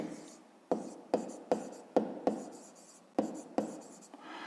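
Pen strokes on paper while working a fifth-grade math exercise by hand: a quick series of sharp scratchy taps and short strokes, close and fairly loud, with no talking.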